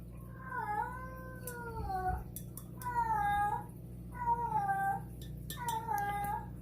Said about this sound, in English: Freaking cat just going crazy again.